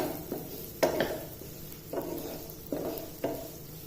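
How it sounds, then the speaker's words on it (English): Chopped onions sautéing in a pan for white sauce pasta: a steady low sizzle broken by about six distinct spatula strokes scraping the pan at regular intervals, close up with no talking. "Saute this for about less than a minute."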